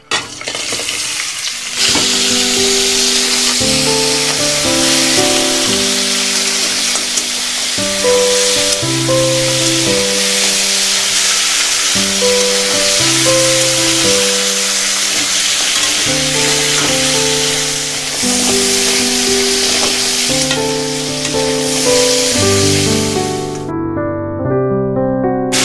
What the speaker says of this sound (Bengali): এবার ম্যারিনেট করা কাঁকড়াগুলো দিয়ে দেব।